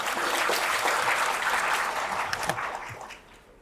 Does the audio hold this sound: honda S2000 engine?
no